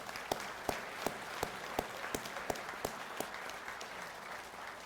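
A convention audience applauds a district group of American Legion Legionnaires, a steady wash of many hands clapping at moderate distance with occasional sharper claps standing out from the crowd.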